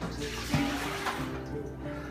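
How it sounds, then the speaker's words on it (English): Water is poured out of a bowl into a kitchen sink, a short continuous splashing gush close by that lasts about two seconds, with no talk. "I'm gonna pour this water out"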